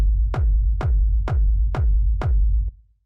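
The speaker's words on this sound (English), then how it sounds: "The first sound I have here is the kick" A punchy 909-style kick drum sample with processing, at 128 BPM, hits five times in a steady four-on-the-floor pulse over a sustained low rumble, each thump loud and up front with a sharp click on top, no voices.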